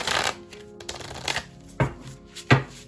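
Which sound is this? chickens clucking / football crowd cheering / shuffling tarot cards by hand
shuffling tarot cards by hand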